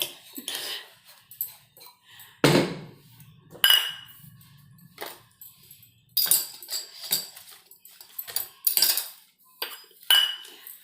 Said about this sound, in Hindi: प्याज काट रहे हैं